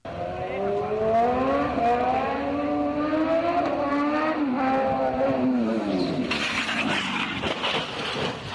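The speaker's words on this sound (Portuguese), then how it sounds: "Ele estava empinando uma moto." A motorcycle ridden in a wheelie at Sambão do Povo, its engine revving loudly and steadily with rising and falling pitch, then a burst of rougher broadband noise near the end.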